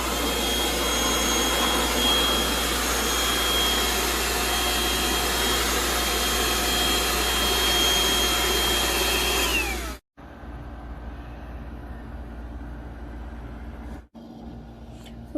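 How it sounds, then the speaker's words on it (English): A vacuum cleaner runs loud and steady as it sucks up broken glass, its motor whine holding for about ten seconds before it cuts off, then a quieter hum continues with a brief dropout. "If anybody was wondering if the vacuum can pick up glass"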